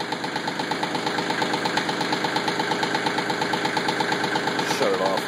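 A Kioti CK20 tractor diesel engine runs on a cold start with suspected faulty glow plugs, giving a steady, loud, rapid knocking chug throughout.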